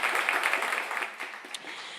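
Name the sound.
audience applause at live radio show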